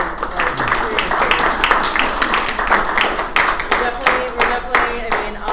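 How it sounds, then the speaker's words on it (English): A round of applause breaks out at a staff meeting, with lively, irregular clapping from a small group of people close by and a few voices talking and laughing over it. "let's do like a round of applause for events"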